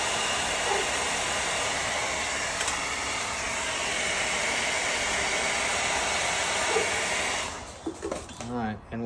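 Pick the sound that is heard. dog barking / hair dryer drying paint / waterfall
hair dryer drying paint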